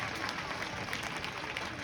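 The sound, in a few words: applause for a student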